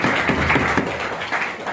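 An audience at a mentoring and motivation session claps for their teachers, a sustained ripple of many hands with slight surges, moderately loud and close, no voices over it.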